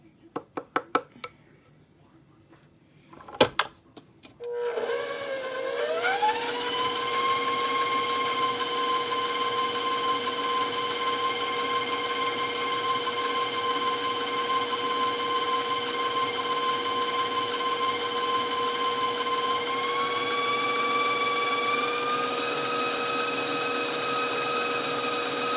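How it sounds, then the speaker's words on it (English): A stand mixer kneads sticky bread dough: after a few knocks and clatters, a steady motor whine with stacked harmonics runs loud and continuous, its pitch rising slightly near the end. "As you guys have been listening to my mixer, you can probably fast forward this part"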